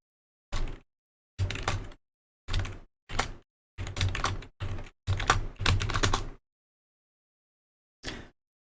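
Typing on a computer keyboard comes in short bursts of quick keystrokes separated by pauses, close and fairly quiet, ending with a single brief tap after a longer gap.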